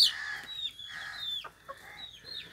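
Aseel hens and roosters at a cattle and dairy farm near Lahore give a series of short clucks and higher calls, moderately close, with no talking over them.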